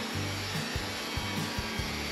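A sawmill quarter-saws a big Douglas fir log, giving a steady, loud rasping saw drone with short rhythmic breaks as the blade bites through the wood.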